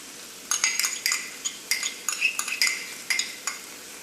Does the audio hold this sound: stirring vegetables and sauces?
yes